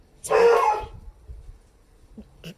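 A dog gives one loud, hoarse bark with a cracking, breaking quality, followed by quiet rustling and a couple of faint, brief yelps near the end.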